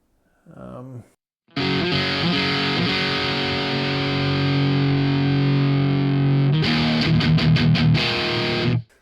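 A loud, heavily distorted electric guitar through a Master Effects EQ from Hell pedal rings out in a sustained chord after a brief opening strum, its tone thick and saturated before choppy strums close it out.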